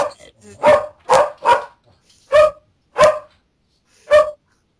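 A dog barks loudly and close by, about seven sharp barks in uneven bursts with short pauses between them, in a cellar.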